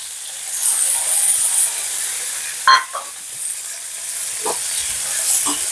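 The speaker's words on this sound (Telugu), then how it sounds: "కొత్తిమీర నూనెలో వేపుకుంటే బాగుంటుంది" Coriander frying in hot oil for a tomato chutney produces a steady, close sizzle and hiss, broken by a few brief stirring clatters along the way.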